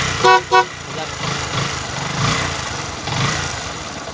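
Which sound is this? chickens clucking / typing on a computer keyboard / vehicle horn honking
vehicle horn honking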